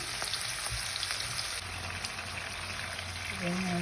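Mushrooms sauté in a pan with a soft, steady crackling sizzle, quiet and close, joined briefly by a faint voice near the end.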